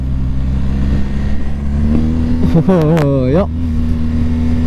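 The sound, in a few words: motorcycle engine revving with throttle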